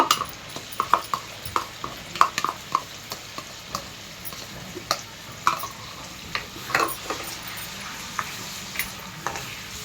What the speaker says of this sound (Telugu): అది ఇది కలిపి ఫ్రై అయిపోతుంది